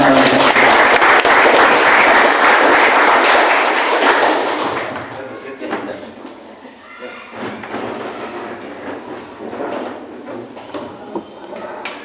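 Loud crowd applause at a vocational high school student send-off ceremony, honoring the school principal, strong for several seconds and then fading into quieter room noise with scattered thumps and faint voices.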